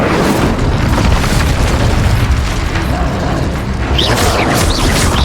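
The Incendio fire spell from Hogwarts Legacy bursts into a dense, continuous whooshing roar of flame, loud and close, holding steady for several seconds with a slight flare near the end.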